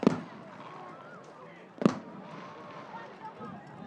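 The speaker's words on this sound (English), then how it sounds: "they'll ring the bell again as they explode more fireworks here at Viking Field." Fireworks at a high school football stadium burst twice with sharp booms a couple of seconds apart, ringing over a steady crowd and field-side background noise.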